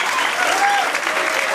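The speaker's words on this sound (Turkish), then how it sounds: "Bir alkışlar gelse Niyaz'ı götürürüz." Applause at a henna night celebration, a dense, loud burst of clapping from a crowd with voices mixed in, sustained throughout.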